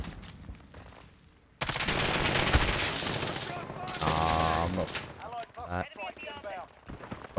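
Pistols fire in a first-person shooter video game as a dense run of rapid, loud shots over a couple of seconds, with a player talking around them.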